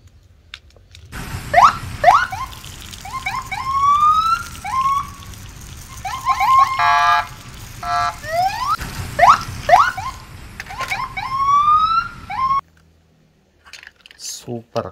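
Toy-like police patrol car siren sounding in repeated rising electronic whoops and chirps, fairly loud and close, with short pauses between bursts and no talk over it.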